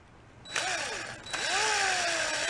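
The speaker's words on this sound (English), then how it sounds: "take my drill with my cutoff drum key, and then I'm going to run it through this die." A cordless drill spins up twice, turning a cutoff drum key through a threading die to clean its threads during a 1938 Leedy Broadway Parallel snare drum restoration, the motor whine rising and steadying, close and fairly loud.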